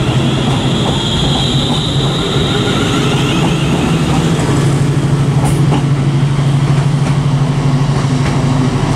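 Class 350 electric multiple unit 350.407 pulling out of Manchester Piccadilly station, a loud, steady rail rumble with a sustained motor whine and faint wheel clatter running throughout, close by and without any talk.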